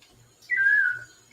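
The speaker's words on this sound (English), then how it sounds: "That's my bird clock." A bird-shaped clock gives a single short chirp, a bright whistled note lasting about half a second, heard alone in a quiet room.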